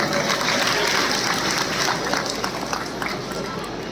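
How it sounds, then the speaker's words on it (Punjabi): A crowd at a Lohri celebration for daughters gives loud, sustained applause for Pindu Johal, a dense wash of clapping that fades slightly toward the end. "ਜ਼ੋਰਦਾਰ ਤਾੜੀਆਂ ਪਿੰਦੂ ਜੋਰ ਸਾਹਿਬ ਦੀ"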